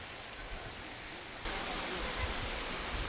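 A waterfall roars as a steady broadband wash of rushing water, growing noticeably louder and fuller partway through as it comes closer.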